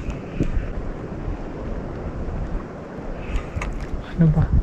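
Strong wind buffets the microphone in a continuous low, rough roar, with gusts swelling near the end, while squid fishing with a lure.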